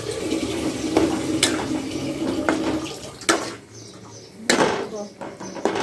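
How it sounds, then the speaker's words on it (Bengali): Washed flattened rice (chira) is tipped into a cooking pot of winter vegetable khichuri, giving several close, wet splats and scraping clatters, with a voice heard between them. "চিড়াগুলো ধুয়ে নিয়েছি, এখন এগুলো দিয়ে দেব।"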